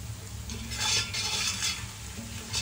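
Spices are stirred into mutton paya soup in a pot over browned garlic, ginger and chili, giving scraping, sizzling stirs in a few close bursts, with no talking.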